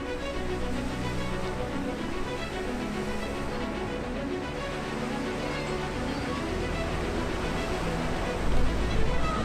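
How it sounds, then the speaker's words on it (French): Ship Scotline launched down the slipway at a shipyard, its fast descent throwing up a massive wave; a steady, dense roar of rushing, churning water with wind-like noise throughout, swelling slightly near the end. "Sa descente rapide soulève une vague massive,"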